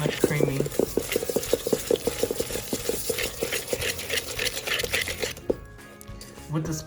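Softened butter and sugar being mixed for dulce de leche blondies, rapid rhythmic scraping and tapping of a utensil against a bowl, close and busy, stopping near the end.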